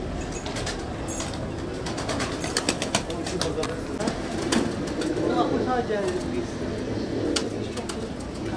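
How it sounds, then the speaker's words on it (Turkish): Mardin pigeons coo steadily against a constant hiss of background noise, with occasional voices talking in the background. "İşte güvercin bizim hobimiz."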